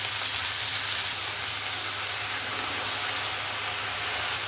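Red amaranth greens hit hot oil with browned onion, chili and garlic and sizzle in a steady, loud, continuous hiss that barely changes from start to finish.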